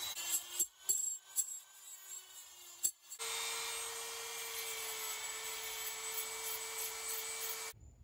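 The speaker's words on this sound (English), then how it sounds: "Sander head in the drill." A power drill fitted with a sanding head, hollowing out a sailfish fishing lure, whirs in short bursts with pauses, then runs steadily for several seconds with a high-pitched grinding whine before stopping.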